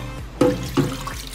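Starchy rinse water is poured off washed rice in a kitchen, two quick splashing gushes into a sink amid a quiet background.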